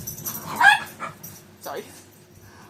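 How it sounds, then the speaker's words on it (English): Dogs play in the background, giving a few short yips and whimpering barks between brief bits of nearby speech, fairly faint and scattered over a quiet room. "Dogs are playing."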